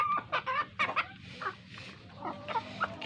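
Chicken suffering from a snoring respiratory condition clucking several times in short, uneven bursts, fairly close, against a steady background hiss; no talking.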